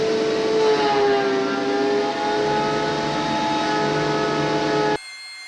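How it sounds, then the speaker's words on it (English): A power planer or thickness planer runs steadily on wooden boards that are already fairly straight, being flattened for farm-style tables, with a loud sustained motor whine that holds for about five seconds and then cuts off abruptly. "we're going to start planing these boards"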